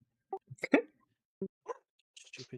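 A pet dog named Archie barks in short, separate yaps spread across a few seconds, close and fairly loud in an otherwise quiet indoor room.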